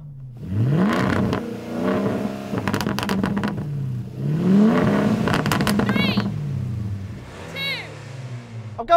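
A Suzuki Jimny engine revs repeatedly against a soft limiter at 3,500 RPM, each loud rise in pitch flattening out and bouncing at the cutoff before dropping back, close by, with short bursts of talk between revs.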